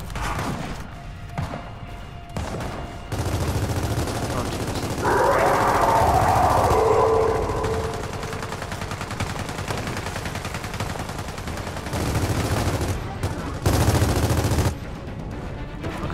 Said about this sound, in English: Marcus just had a fit and started shooting at a wall